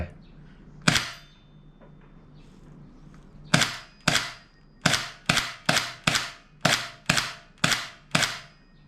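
A P320 M17 gel blaster pistol fires one sharp crack, then after a pause fires about ten more rapid, evenly spaced snapping shots, close and loud.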